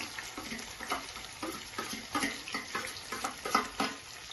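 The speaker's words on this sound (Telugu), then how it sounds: "కొంచెం దోరగా వేగనిద్దాం ఇంకా లైట్గా కొంచెం ఫ్రై అయితే ఇది బాగుంటుంది" Chopped onions, curry leaves and green chillies fry in a pan, a soft sizzle broken by uneven stirring scrapes, fairly quiet, with no voices.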